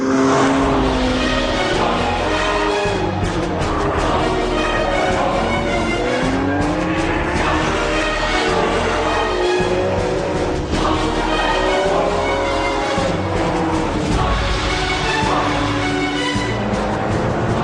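A Ferrari 599 GTB Fiorano V12 driven hard, a loud continuous engine howl climbing through the revs in repeated sweeps as it shifts gears, with tire squeal mixed in.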